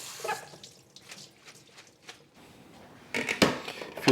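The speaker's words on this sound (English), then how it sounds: "I have to rinse this lettuce and then we can dry it." Garden lettuce rinsed under a running sink tap, with soft splashing and dripping that swells into a louder close gush near the end, no voices.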